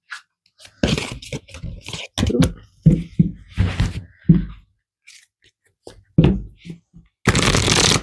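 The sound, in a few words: shuffling tarot cards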